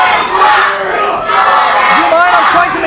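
At a wrestling event in Witham, a crowd shouts loudly and continuously, with mixed yelling voices and a few chanting rises.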